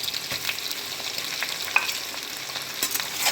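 Chicken frying in a pan with stone flower, a close, busy sizzle with crackles and the scrape of stirring, alone and without talk.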